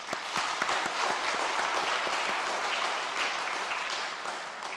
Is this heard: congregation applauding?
yes